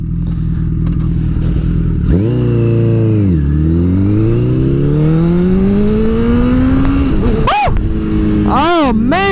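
A Honda CBR superbike's inline-four engine revs loud and close, its pitch sweeping up smoothly through the gears under strong acceleration, with wind rush throughout and a couple of sharp rev blips near the end.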